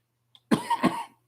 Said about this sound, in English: This stuff's making me cough.